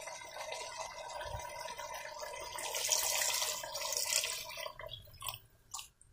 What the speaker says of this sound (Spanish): Yo no tengo caldo, así que le voy a colocar simplemente agua.